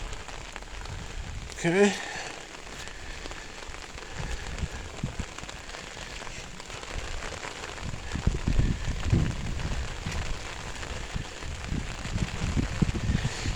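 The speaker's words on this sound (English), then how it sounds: "The rain rinsed that." Steady rain patters on surfaces outdoors during a car wash, a dense continuous hiss with heavier bursts in the second half; a person says a brief word early on.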